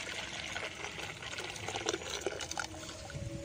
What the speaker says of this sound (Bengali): এখানে কিন্তু এবার একটা জায়গার মধ্যে আমি এরকম ঢেলে নিচ্ছি।